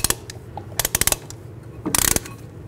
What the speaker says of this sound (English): And compress the brake caliper. This is going to push the piston back into the caliper